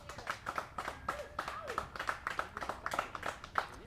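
An audience at a roofball U.S. Open semifinal claps for a semifinalist, a scattered, uneven patter of hands from a small crowd, with voices mixed in.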